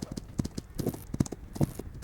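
Hoofbeats from a horse galloping in the Roblox game Men of War come in quick irregular clusters, close and moderately loud, with faint background noise.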